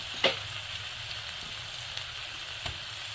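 About a spoon and a half of ginger paste fries in a pan over raised heat, giving a continuous close sizzle with a couple of brief sharp clicks.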